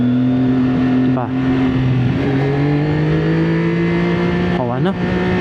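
A CFMOTO 675SR motorcycle engine drones steadily while riding a tight, winding mountain road, its pitch rising and shifting with short dips between gears, loud and close, with a rider talking over it.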